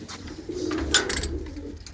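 Inside a Punjabi pigeon loft, grown pigeons let out a soft, throaty coo or two, near and moderately loud, with rustling and no talk.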